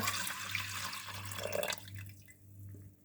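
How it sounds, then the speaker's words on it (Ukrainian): Water pouring from a tap over rinsed buckwheat in a pot, a rushing, splashing stream that runs loud for most of the time, then cuts off, leaving faint drips. "заливаю водою"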